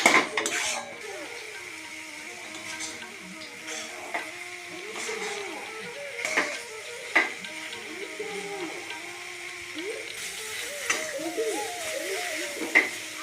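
A spoon stirs carrot laddu mixture with ghee in a pan, making repeated metallic clinks and scrapes at an irregular pace over a soft, faint sizzle. Quiet voices can be heard in the background.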